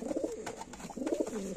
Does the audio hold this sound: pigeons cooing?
yes